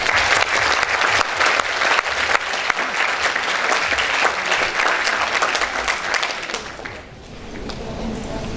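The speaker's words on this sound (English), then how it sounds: "please join me to give a big round of applause to the CEO of Binus Nusantara, Bapak Bernard Gunawan." An audience at an economics webinar event applauds a company CEO, sustained loud clapping for about seven seconds before fading off, followed by quieter room sound.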